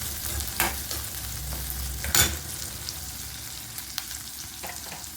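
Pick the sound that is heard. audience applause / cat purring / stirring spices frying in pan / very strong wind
stirring spices frying in pan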